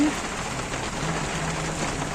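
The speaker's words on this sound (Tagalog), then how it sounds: "Ayan na ang ulan oh." Heavy rain pours down outdoors at Parsa, a steady dense hiss of drops on surfaces that stays loud and even throughout, with no voices.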